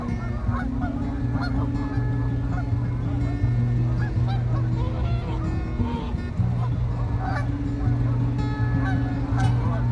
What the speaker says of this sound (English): Where you can enjoy watching thousands of Canadian geese chilling on the freezing water of the Lake Ontario.